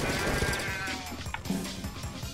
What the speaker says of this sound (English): You should get the sheep.